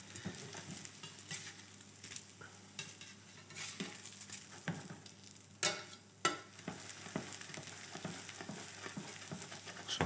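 Slices of pain perdu fry in a pan as sugar caramelizes, giving a continuous sizzle broken by frequent scraping and stirring clatter and a couple of sharper knocks of the pan. No voices are heard.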